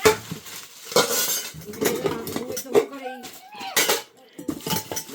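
Metal pots and utensils from a parcel are picked up and set down, giving close, repeated clanks and clinks that mix with people talking throughout.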